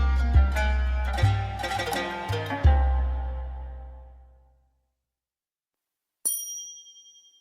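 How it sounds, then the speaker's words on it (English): Kanun, a traditional Turkish plucked zither, sounds a few rich resonant plucks that ring and decay into silence, then a single bright metallic ding follows alone. "The kanun is a traditional Turkish harp"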